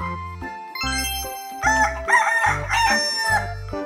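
A rooster crows several times in a row, with clear, close, tonal calls around a toy farm diorama with a chicken coop.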